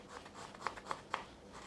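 A knife slices through a broccoli stem on the bias, three crisp, quiet cutting snaps in an even rhythm, close and isolated with no talking.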